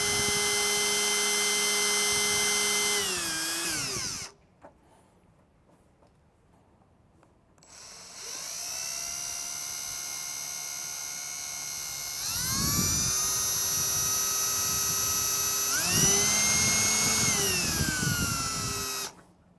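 Power drill boring a pilot hole into the stainless steel body of a Tesla Cybertruck, with a sustained high whine that stops, restarts and rises in pitch across several bursts, close and loud.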